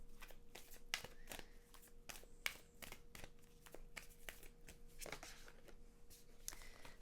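A large Whispers of Love oracle card deck being shuffled by hand, with repeated crisp riffling bursts and soft card slaps at an uneven rhythm, close and clear with no talking.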